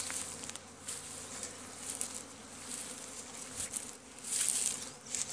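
Honeybees buzz around the hives of an apiary fitted with pollen traps, a soft, continuous outdoor drone with individual bees swelling louder as they pass close.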